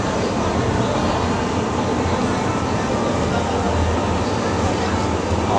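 The Penang Hill funicular train gives a loud, steady, unbroken rumble and rush of rolling and cabin noise, close up and continuous throughout.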